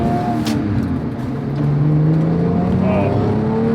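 Porsche 911 Carrera GTS 997 with its rear engine pulling hard under acceleration on the road, a loud rising engine note from inside the cabin, with a voice briefly present.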